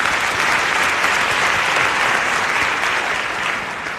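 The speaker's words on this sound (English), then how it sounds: "it deserves a round of applause" Dense, loud audience applause fills a university degree conferment ceremony, a sustained wash of many hands clapping close and even throughout, tapering slightly near the end.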